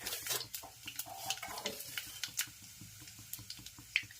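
Mustard seeds, cumin and fenugreek powder sizzling in hot oil, a faint crackling hiss with scattered sharp pops and light clinks of a spoon against the pan, quiet and close.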